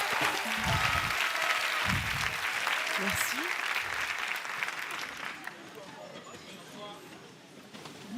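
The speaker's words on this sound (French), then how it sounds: "Samia, sous vos applaudissements." Studio audience applauds and cheers as a comedian takes the stage at a French stand-up comedy show, dense clapping filling the room and slowly thinning toward the end.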